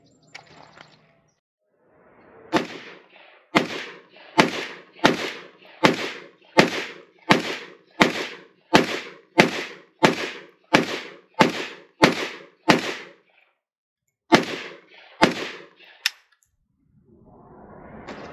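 Trigger on an AK rifle fitted with an enhanced Fime Group fire control group, dry-fired again and again: about sixteen sharp, crisp clicks in a fast, even rhythm, each break followed by its reset, with a short pause before the last few.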